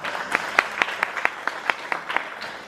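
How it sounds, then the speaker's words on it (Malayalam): Sparse, separate hand claps, about a dozen uneven strikes spread over a few seconds, at a meeting after a report is presented. Only a few people are clapping, heard fairly close in a quiet room. "റിപ്പോർട്ട് പാസ്സാക്കുന്നതിനായിട്ട് എല്ലാവരും നല്ലൊരു കയ്യടി വേണം"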